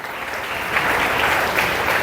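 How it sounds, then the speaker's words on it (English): An audience at a student investiture ceremony applauds for the event's organizers, a loud, dense, continuous wash of clapping from a crowd close by. "Give a big round of applause for everybody who has organized this."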